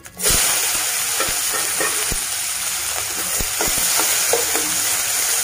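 Turmeric sizzles in hot oil at the start of a fish dish with colocasia and rice flour, a loud steady frying hiss broken by sharp crackles and a few stirring scrapes, close up with no talk.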